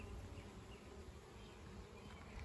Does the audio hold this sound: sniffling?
no